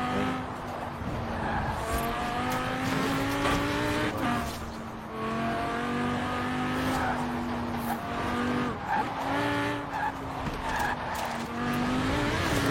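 A car drifts through a Forza Horizon race, engine roaring at high revs with long, sustained tire squeal and gear-shift dips, loud and continuous throughout with no speech over it.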